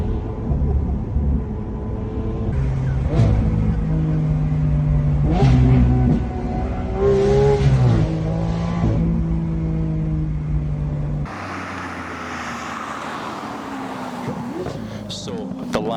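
A Lamborghini Aventador V12 with a single-clutch gearbox revs and accelerates loudly, its engine note rising and falling through several surges, with a sharp gearshift break near the end. Someone talks over it.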